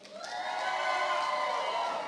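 A room of Everett High School alumni from the 1990s cheers and whoops together at a 2010 centennial gathering, a loud, sustained burst of mixed voices that swells quickly and holds steady.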